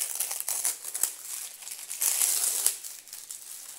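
A diamond painting canvas package is opened, its plastic wrapping crinkling and rustling in close, fast irregular bursts with a few sharper crackles, no voices over it.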